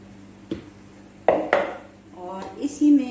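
Pieces of beef go into a metal pressure cooker with a few hard clanks and scraping clatters of metal on metal, close and irregular, ending in a brief jingle.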